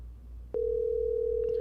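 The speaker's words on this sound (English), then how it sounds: "Okay, it's ringing." A telephone ringback tone while placing a call: a single steady tone starts abruptly and holds, fairly loud against a quiet background hum, with no talking.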